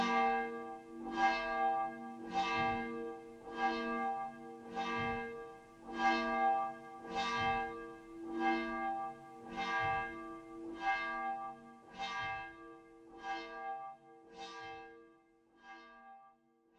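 A church bell tolls for the Easter Sunday service at Brämaregården church, striking about a dozen slow, evenly spaced rings with long resonant hums, clear and unaccompanied.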